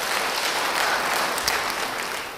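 A church congregation breaks into broad, sustained applause, a dense, even wash of many hands clapping at a steady level throughout with no clear talk over it.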